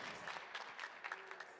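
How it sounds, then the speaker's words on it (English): An esports crowd at a PUBG Mobile tournament cheers and claps in a faint, distant swell of applause with a few sharper bursts of clapping. "I love hearing that crowd"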